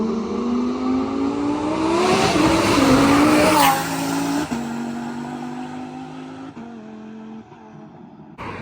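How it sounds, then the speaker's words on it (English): Twin-turbo Lamborghini roaring loud and close as it accelerates past, engine note climbing to a peak around the pass, then dropping through several gear shifts as it pulls away, with a faint tire screech mixed in. "There's nothing like a twin turbo car just fully boosting through you."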